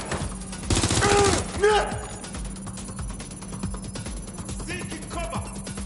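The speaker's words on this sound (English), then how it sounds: "Shots fired." Gunfire in the video game Watch Dogs: Legion, a dense burst of rapid shots early on, then scattered cracks and clatter over a steady low hum, with game voices shouting in between.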